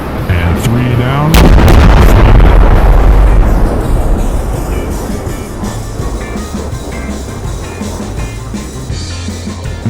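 Airshow simulated bomb strike as a deep, booming explosion that rolls out over several seconds, with a heavy low rumble tailing off into continuous crowd and engine noise.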